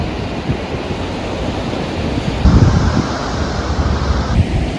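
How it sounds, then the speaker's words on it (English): Kepler Cascades waterfall in Yellowstone National Park gives a steady, broad rushing roar that swells slightly midway and continues unbroken, with no voices. "We are at Kepler Cascades, and it's literally just a boardwalk, and then you're at the waterfall."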